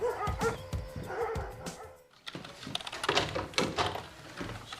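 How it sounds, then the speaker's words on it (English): Several dogs bark, yip and whimper in an agitated burst after being let loose by security, a short gap breaking the barking partway through, with no talking. "Security let out the dogs."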